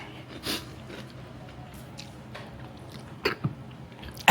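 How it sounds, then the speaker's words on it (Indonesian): A few short, sharp coughs near the end from someone eating street food in a narrow Jakarta alley at night, close and fairly loud, after a quiet stretch with faint background noise. "Aku batuk."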